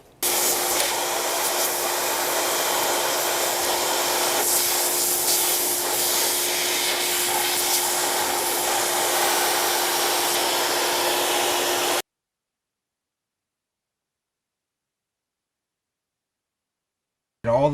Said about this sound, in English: I'll be pushing air through this line and then cleaning it out through the hole